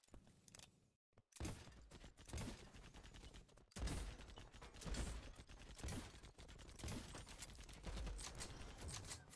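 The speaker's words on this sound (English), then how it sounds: "Let's try the grenade launcher." Rapid booming blasts from a grenade launcher in an online shooter game, dense continuous bursts of gunfire and explosions filling the whole stretch after a short pause at the start.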